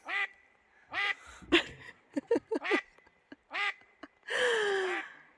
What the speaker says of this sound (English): that is the loudest duck